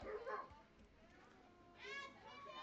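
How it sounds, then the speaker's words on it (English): Dogs bark faintly at a baseball game between the Impact and the Skeeters, mixed with voices and children's chatter in the background. "The dogs are anxious. They're barking."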